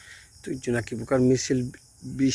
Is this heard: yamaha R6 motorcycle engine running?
no